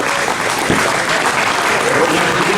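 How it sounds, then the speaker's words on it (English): An audience at the 2025 Vintage Karting Hall of Fame inductions breaks into loud, dense applause that holds steady for the whole stretch. "give yourself a round of applause"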